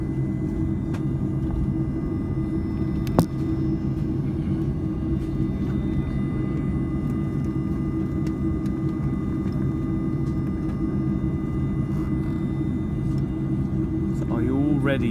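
Inside the cabin of a Mahan Air Airbus A310-304 on the runway before takeoff, a steady loud engine rumble and whine, with a brief click and a voice speaking over it.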